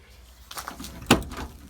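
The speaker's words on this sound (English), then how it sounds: "So let's see if we can get this door to open up here." The door of an old 1969 Plymouth Road Runner, found in a barn, is pried open: faint scraping and rustling, then one sharp clunk of the latch giving way, followed by a little soft rattling.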